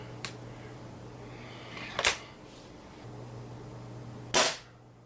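A Benjamin NP2 .22 caliber pellet rifle goes off with short, sharp snapping cracks: a faint one, then two louder distinct shots a couple of seconds apart, close by over a low steady hum.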